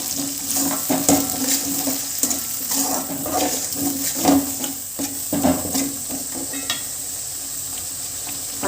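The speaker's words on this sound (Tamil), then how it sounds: "நல்லா எண்ணெய் வந்து நல்லா மேலே வர்ற வரையும் நல்லா வதங்கட்டுங்க" Tomato thokku pickle sautéing in oil in a pan, a continuous sizzle with repeated scraping stirs against the pan, moderately close and steady, no talking.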